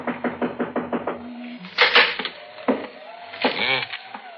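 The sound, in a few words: knocking on a door, radio drama sound effect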